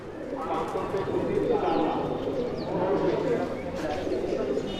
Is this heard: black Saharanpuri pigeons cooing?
yes